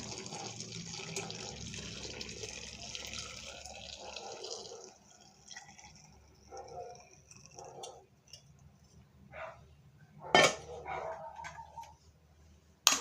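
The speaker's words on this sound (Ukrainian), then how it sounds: "Заливаємо готовим маринадом наші огірочки." Ready-made marinade poured over pickling cucumbers in jars: a steady liquid splash for several seconds, then scattered drips, small clinks and faint knocks close by.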